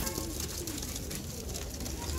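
Madrasi pigeons coo softly and repeatedly against a steady background hum, with low murmuring calls overlapping throughout.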